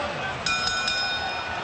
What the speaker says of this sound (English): So the bell sounds then for round number 5.